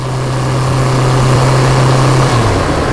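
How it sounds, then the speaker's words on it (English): A motorcycle engine hums steadily while riding on smooth, winding country roads in Ohio, a loud constant low drone mixed with wind rush, the pitch dipping slightly near the end. "This is the way to enjoy a motorcycle."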